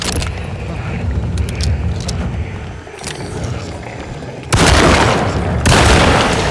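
Gunfire in the video game Alone in the Dark as enemies are shot, heavy blasts and a rumbling barrage that swells loudly toward the end, with no voices.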